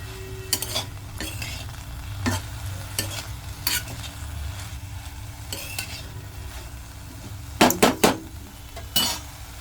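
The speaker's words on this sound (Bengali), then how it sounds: "এই দেখো এটা ভাজা হচ্ছে" Cumin, chili and potato fry in a pan with a steady sizzle, broken by repeated sharp scrapes and clinks of a utensil stirring against the metal, several louder clanks near the end.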